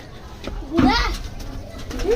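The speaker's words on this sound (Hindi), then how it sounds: "तो ये देख ले, कबूतर सारे पी रहे हैं।" Soft pigeon coos close by as the pigeons drink water, a short throaty call in the middle and another near the end, over low background noise.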